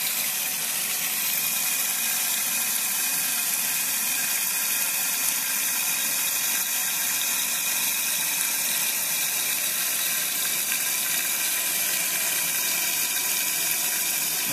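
A Costco toilet tank refills after its supply valve is opened, giving a steady, continuous hiss and rush of running water that holds at an even level throughout, with no voices.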